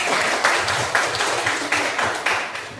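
Applause in a classroom teaching session on Christian youth, a small group clapping in loose, pulsing bursts roughly every half second, close and moderately loud with no talk over it.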